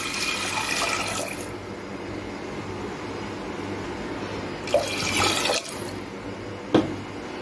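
Water poured into a pressure cooker while making tamarind rice: a steady splashing stream for about a second and a half, then quieter trickling with a couple of brief splashes, close by.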